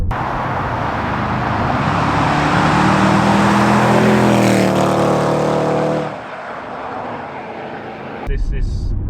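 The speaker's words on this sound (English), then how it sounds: "I couldn't believe how quick it accelerated." A Range Rover SVR's engine roars under hard acceleration, rising in pitch and loudness for about six seconds before dropping off, heard from inside with people speaking.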